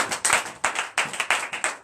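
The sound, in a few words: congregation clapping in acclamation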